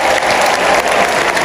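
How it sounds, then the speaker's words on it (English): An audience of newly sworn professional teachers claps at an oath-taking ceremony in a large hall, a dense, steady burst of applause with no voices. "let's clap our hands for the first volunteer"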